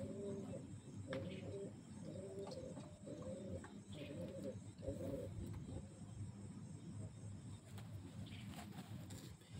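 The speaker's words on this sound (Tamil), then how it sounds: "புறாவுக்கு சவுண்டு கேட்டுருச்சு போல். அது ஒரு பக்கம் கூவிட்டுருக்கு, கத்திட்டுருக்கு" Pigeons coo and call in repeated low warbling phrases through the first five seconds at night, set against a steady noisy background hum, then fade out into the background.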